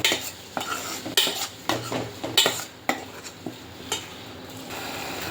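A spatula stirring and scraping vegetables sautéing with asafoetida and salt in a metal pan, irregular clanks and scrapes over a soft sizzle, close and fairly loud.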